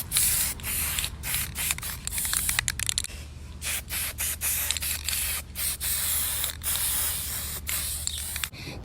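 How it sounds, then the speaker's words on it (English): Short, repeated bursts of spray paint hiss from a can as roses are coated gold, with a few longer sprays and brief pauses between them. "so I'm just gonna spray in little first"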